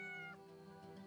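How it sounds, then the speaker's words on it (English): A single short cat meow from the video game Yes, Your Grace, faint and clear with no voices around it. "Was that a cat?"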